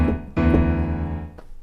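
Two low, booming piano notes struck in quick succession, the second ringing out and slowly fading, imitating deep drum hits.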